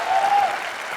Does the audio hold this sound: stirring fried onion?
no